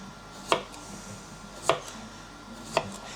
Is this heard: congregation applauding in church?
no